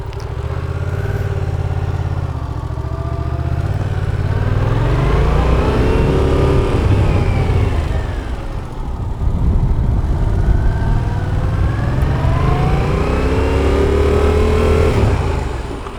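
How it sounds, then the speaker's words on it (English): A motorcycle on a licence skills test course accelerates with rising engine revs, then eases off as it brakes to a quick stop, before pulling away and revving up again; the engine is steady and close throughout. "When I drop my hand, I want you to bring the bike to a nice quick stop without locking either tire."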